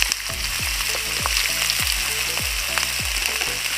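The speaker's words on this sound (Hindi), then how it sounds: "तो थोड़ा सा पक गया है लहसुन, तो इसमें मैं आलू डाल देती हूँ।" Potatoes frying in hot oil with garlic for teta saag sizzle steadily and close up, with a rapid series of short clinking stirs repeating roughly every half second over the constant hiss, no talking.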